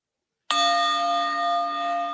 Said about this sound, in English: listening to the 3 bells